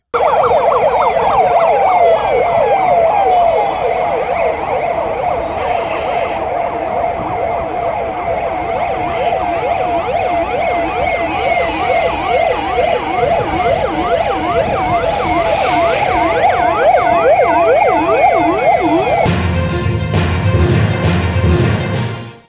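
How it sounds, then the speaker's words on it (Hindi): Dozens of police vehicles sounding sirens during a city flag march, with loud, close wailing tones sweeping up and down continuously, layered over each other, before ending in a burst of rumbling noise. "फ्लैग मार्च में दर्जनों पुलिस के वाहन सायरन बजाते शहर के विभिन्न मार्गों से गुजरे"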